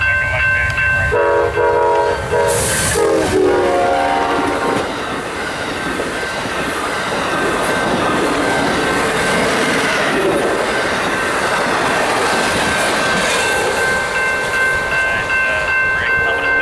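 An Amtrak passenger train hauling two private cars sounds its horn in a few short blasts, then rolls past loud and close with a sustained rumble and rhythmic wheel clatter.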